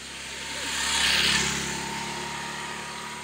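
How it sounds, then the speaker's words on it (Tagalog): A motorcycle passes by on a mountain road, its engine swelling from the distance to a peak and then fading away, with people talking faintly behind it. "Then biglang may dumaan motor."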